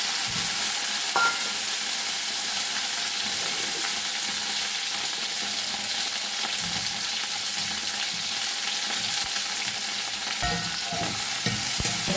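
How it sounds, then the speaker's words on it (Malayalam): Chopped lady's finger (okra) sautéing in a heated cheenachatti wok gives a constant loud sizzle, with stirring scrapes and rustles of the spoon moving the pieces around the pan throughout. "ആദ്യം തന്നെ നമുക്ക് ഈ വെണ്ടക്കായ ഒന്ന് വഴറ്റിയെടുക്കാം"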